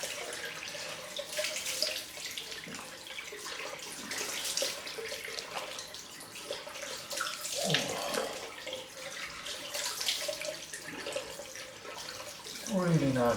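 Cold tap water runs steadily into a sink for a post-shave rinse after a head shave, a continuous close splashing stream with small shifts in flow and occasional sloshes.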